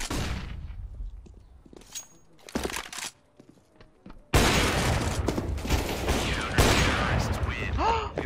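Bursts of gunfire from an AUG rifle in a competitive shooter game, sharp shots in clusters with a flashbang-like blast, over a steady game soundscape, with a voice speaking occasionally.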